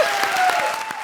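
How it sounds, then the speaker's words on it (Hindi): Studio audience at a comedy stage show bursts into loud, sustained applause, dense rapid clapping filling the whole moment with no talk over it. "जोरदार तालियां हो जाएं।"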